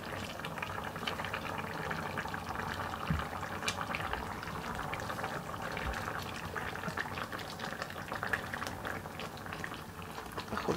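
Chicken with vegetables and runner beans simmering in a pot, a continuous bubbling boil with scattered pops and gurgles, close and moderately loud.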